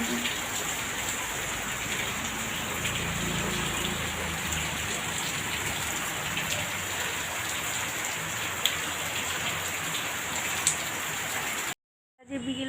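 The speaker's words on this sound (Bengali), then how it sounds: "মানে বৃষ্টি হচ্ছে" Rain falls steadily on a rooftop, a dense, even patter heard close and unbroken for most of the clip before a brief cut near the end.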